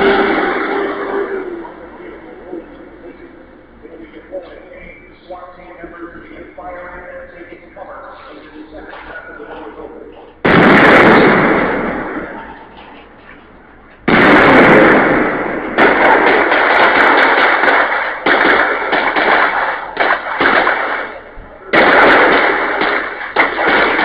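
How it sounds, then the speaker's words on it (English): Bombs set off at a public show-of-force event produce loud booming explosions in separate bursts, several heavy blasts spaced across the stretch, with people talking in between. "They let off bombs."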